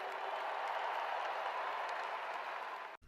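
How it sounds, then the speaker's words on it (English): Steady, dense applause from a large audience at a celebration for a championship-winning Georgia football team, sustained and even before cutting off abruptly near the end. "Give them a round of applause, please."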